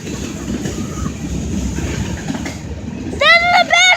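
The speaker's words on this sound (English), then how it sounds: "This is the best day ever! We're seeing a big train!" A big train rolls past with a continuous low rumble and clatter, then a loud horn blares in two bursts near the end, with a voice heard faintly around it.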